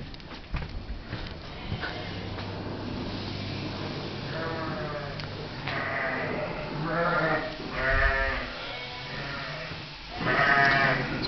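Sheep bleat repeatedly across a farm on shearing day in Leamore, Ireland, in several loud, wavering calls with short gaps, over a steady low background hum and faint voices.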